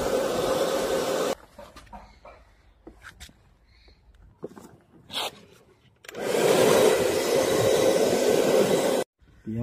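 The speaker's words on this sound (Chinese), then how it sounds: "吹风机吹一吹" A hair dryer blows steadily near a car, cutting out with scattered clicks and rubbing in between and then starting again loudly before stopping briefly.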